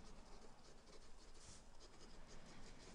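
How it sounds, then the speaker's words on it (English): Faint, continuous scratchy strokes of writing on a board during an introductory digital communications lecture, soft and steady, with a small tap at the very end. "Let's write this here down first."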